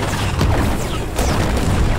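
Explosions in a sci-fi show: dense, continuous booming blasts with crackling debris, one burst after another and no pause, loud and close.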